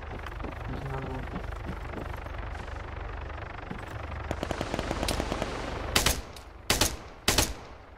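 Gunfire in the video game Arma III during a tower raid: a steady background of distant rattling shots builds into several loud, close bursts near the end. Players talk over it.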